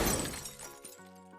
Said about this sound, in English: Oh no! The monster truck crashed!